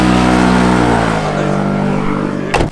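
A dirt bike engine runs loud and steady close by, its rough mid-range drone holding throughout, then a brief sharp burst of noise near the end.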